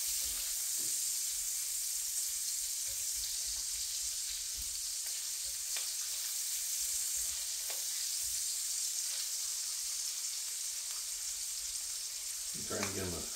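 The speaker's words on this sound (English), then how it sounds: "Same thing, just kind of stirring it around." Food frying in a pan on a farm kitchen stove is stirred around, giving a steady close hiss and sizzle with light scrapes and taps of a utensil throughout.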